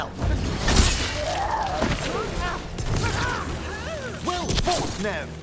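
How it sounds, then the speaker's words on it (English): Chains shatter in Dragon Age: The Veilguard amid combat, with crashing and metallic breaking bursts and clanking impacts under voices speaking in-game. "Shattering those chains will free the bell."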